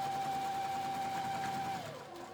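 A sewing machine runs steadily while stitching quilt seams, a faint even mechanical whir for about two seconds that slows and dips near the end, with no talking.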